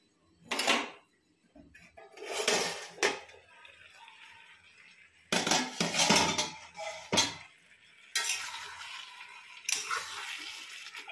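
A lid goes onto a pot of ridge gourd and potatoes, with a few separate bursts of metallic clatter and scraping, close and moderately loud, separated by quiet gaps.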